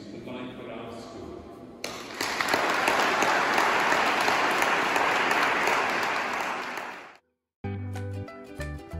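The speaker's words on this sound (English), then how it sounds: "let all those adults in the room give the children a resounding round of applause" Adults in a school hall applauding children at a Year 6 leavers event, sustained loud clapping for about five seconds before it cuts off, followed by other sounds.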